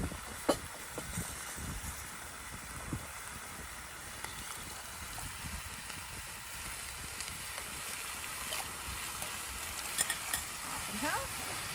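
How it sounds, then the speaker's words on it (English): Chili cooks over an open flame in a pan as diced tomatoes go in, giving a continuous soft sizzle and bubbling with occasional faint stirring knocks, fairly quiet throughout. "Next I'll be adding some diced tomatoes."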